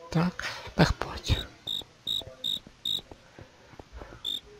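Cicada from the game Minecraft chirping in short bright bursts, about six evenly spaced pulses over a faint background, with a few scattered clicks and thumps from gameplay earlier on.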